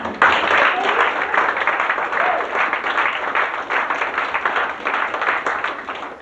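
An audience applauds a model at an onboard fashion show on a cruise, dense clapping filling the whole stretch at an even, sustained level.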